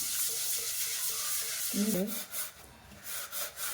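Fish curry is stirred gently in a pan with soft scraping, rubbing strokes over a low background sizzle, close by and fairly quiet, with a brief vocal sound in the middle.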